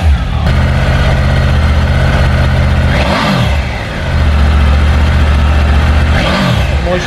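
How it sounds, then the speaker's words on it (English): A 2020 Triumph Tiger 900 motorcycle with a three-cylinder T-plane crank engine rides past in Morocco, its steady loud drone swelling and dipping twice as it revs and passes close by. "it really does give the engine a distinctive bark and tone over the typical three-cylinder offerings from Triumph"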